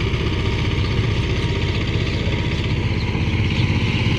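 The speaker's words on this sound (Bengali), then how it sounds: "বিলের মধ্যে বড় চাকা দিয়ে হাল চাষ করতেছি। 12 গোড়া মেশিন, মোটামুটি লুট ভালোই ধরছে।" A 12-horsepower power tiller with big wheels plows a wetland field, its engine chugging in a steady, loud, close drone throughout.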